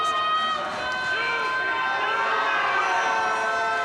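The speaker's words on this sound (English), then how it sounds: "The crowd really into it here." A large crowd at the Classic Tetris World Championship roars and cheers steadily throughout, a dense, sustained wall of voices with announcer-style speech blending in.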